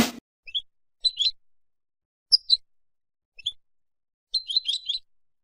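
Goldfinch song in a garden: several short bursts of bright, tinkling twitters and chirps separated by pauses, clear and fairly close against otherwise silent surroundings.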